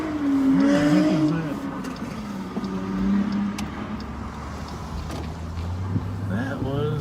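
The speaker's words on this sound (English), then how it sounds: "That was a loud car." A loud car passes on a street during a nighttime police patrol, its broad engine rumble swelling and fading behind ongoing talk in the vehicle.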